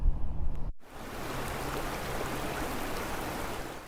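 Creek water in Boulder flowing in a steady broadband rush, moderately loud and continuous after a brief cut near the start, with no talk over it.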